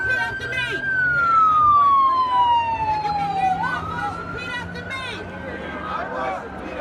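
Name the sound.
ambulance siren passing in the street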